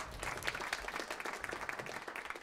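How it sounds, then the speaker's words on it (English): A small audience at a live swing band show in a library applauds the keyboard player, quiet scattered clapping from a modest crowd with a fairly close, intimate sound. "Do give him a round of applause."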